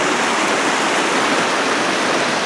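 Crystal Creek running low in late season near Crystal Lakes below Chinook Pass, a steady, even wash of water that holds at one level throughout with no voices.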